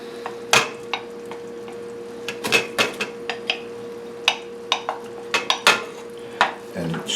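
A spoon stirs butter into boiling nut brittle candy in a pot, with scattered sharp metallic clinks and scrapes against the pan over a low steady background hum.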